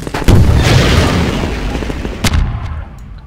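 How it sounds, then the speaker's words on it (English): A rocket explosion in the video game Half-Life 2, a loud close boom with a long rumbling tail, then a second sharp burst before it fades. "Let's see what a rocket does to help him out."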